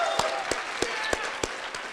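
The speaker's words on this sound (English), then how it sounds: "Let's give everybody a round of applause, all right?" Clapping from an audience at a live comedy awards show, heard as a run of evenly spaced, distinct hand claps at moderate loudness over a soft crowd murmur.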